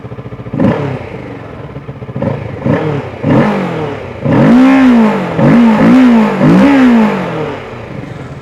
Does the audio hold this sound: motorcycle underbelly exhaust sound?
yes